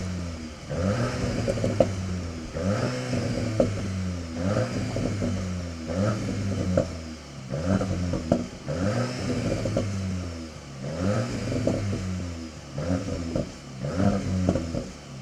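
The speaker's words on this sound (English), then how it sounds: "you can get the Akrapovic exhaust system on here, which we do have, which do sound quite nice" A VW Golf GTI Clubsport MK8.5 with its 300-horsepower EA888 Evo 4 engine and Akrapovic exhaust revs repeatedly, each blip rising and falling in a regular rhythm, loud and close with no talk.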